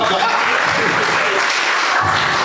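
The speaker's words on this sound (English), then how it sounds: "It's a good place to clap." Congregation at a church youth service round-table discussion bursts into steady, close applause that fills the whole moment, with a few voices mixed into the clapping.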